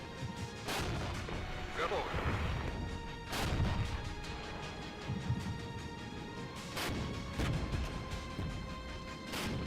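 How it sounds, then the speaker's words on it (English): Persistent mortar fire in the military strategy video game Regiments: repeated heavy blasts and crashing impacts land every few seconds over a constant dense rumble of battle. "mortar fire is pretty good for us here"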